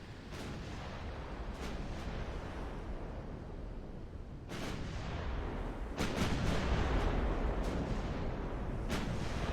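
Battleship guns booming in Ultimate Admiral: Dreadnoughts, a run of heavy cannon blasts over a constant rumble, with sharp reports at irregular intervals that grow louder and denser toward the end.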